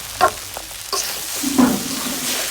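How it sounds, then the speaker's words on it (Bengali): Rice is stir-fried in a pot for bhuna khichuri, giving a soft, continuous frying sizzle broken by several scraping stirs of the spoon against the pot, close by and without talk. "আমার চাউল ভাজা হয়ে গেছে চাউল মোটামুটি কষানো হচ্ছে"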